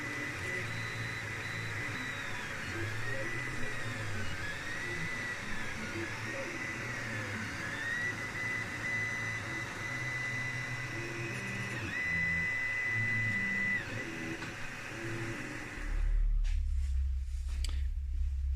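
A 3D printer printing a robot part, heard as a steady close mechanical hum with rising and falling stepper-motor whines and buzzing tones that shift as the head moves, ending in a lower rumble near the end.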